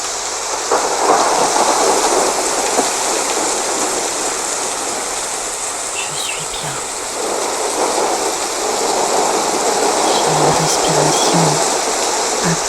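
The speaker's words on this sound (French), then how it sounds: "Je me concentre sur la pluie et sur l'orage qui s'approche" Steady heavy rain hisses over a low, rolling rumble of an approaching thunderstorm, a dense continuous wash of sound with faint distant thunder swelling at times, loud and immersive with no talking.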